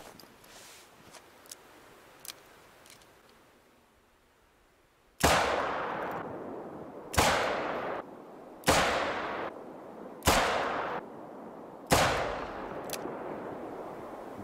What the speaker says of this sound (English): That is 5 shots from 20 meters.